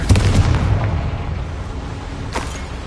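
A Confringo spell explosion in the Hogwarts Legacy video game, a loud booming blast right at the start that rumbles and fades, followed by a smaller crackling burst near the end.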